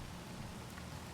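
Rain falls in the Space Engineers video game, a faint, even hiss of drops that holds steady through the whole brief moment.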